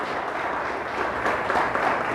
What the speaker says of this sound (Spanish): Denle fuerte el aplauso a Dios.